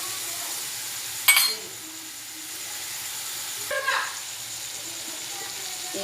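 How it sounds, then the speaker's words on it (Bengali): Poppy seed spice paste fries in a pan for a lentil dish with fritters, giving a steady, soft sizzle. Two brief louder clatters come near the start and middle, with faint voice in the background. "ভাজা হয়ে গেছে মশলাটা"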